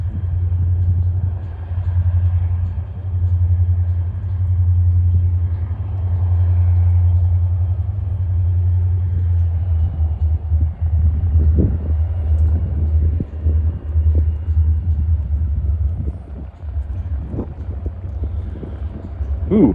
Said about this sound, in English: Both are SD40-2s, EMD locomotives. Here they come up the grade.